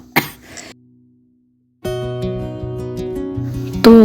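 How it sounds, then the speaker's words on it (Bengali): A single sharp cough rings out close up from a person with a sore throat, followed by a brief pause and then humming or sung tones. "এই গলা নিয়ে সারাক্ষণই কাশি হচ্ছে"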